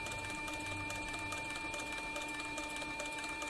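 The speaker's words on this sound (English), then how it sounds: "my bobbin winder over here is winding the bobbin as I sew this flank strap right here" A Cowboy CB4500 heavy triple-feed sewing machine stitches a leather flank strap while its bobbin winder runs, giving a steady mechanical whir with a faint rapid clatter at close range.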